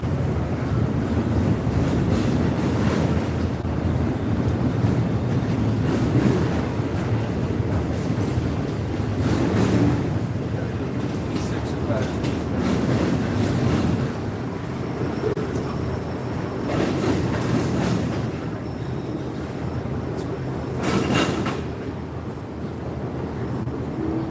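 The tail end of a long train rolls past a rail line in Decatur, a steady rumbling roar with wheel clatter and rushing wind noise across the microphone, loud and close throughout with no talking.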